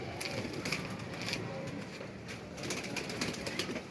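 Pigeons cooing on a rooftop loft, soft low calls layered with rustling and occasional wing flaps, steady and moderately close with no talk.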